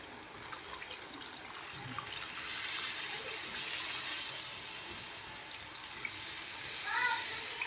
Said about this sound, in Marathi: यामध्ये आता खेकड्यांच्या नाग्या वाटून जे पाणी तयार केले ते पण आपण टाकून